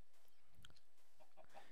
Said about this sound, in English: I can hear loads of chickens, which is quite annoying.